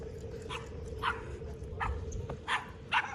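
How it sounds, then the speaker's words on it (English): Small dogs yapping in short bursts in a Sebring, Florida neighborhood, several sharp barks spaced about half a second apart over a steady low outdoor rumble. "Oh, we got two little dogs on my right hand side."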